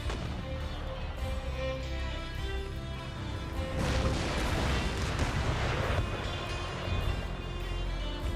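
Mortar artillery in Empire: Total War rumbles and booms through a dense battlefield din, with a heavier surge of blasts midway, steady and loud without talk.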